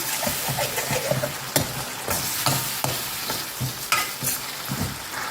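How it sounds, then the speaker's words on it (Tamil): Tomatoes sautéed and stirred in a hot pan for tamarind-free mango sambar, giving a steady sizzle broken by repeated scraping strokes of a spoon at a quick, uneven rhythm, heard close up with no voices. "தக்காளி போட்டுக்கூடிய பச்சை வாசம் போகிற வரைக்கும் வதக்கணும்"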